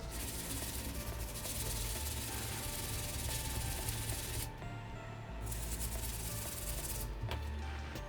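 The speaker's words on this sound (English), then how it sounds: "let's just keep scrubbing with our stiff bristle brush to get the bottom" A stiff bristle brush scrubbing the rubber sole of a retro Jordan 9 Barons sneaker, a continuous close, gritty rasp with brief pauses, fairly faint and without talk.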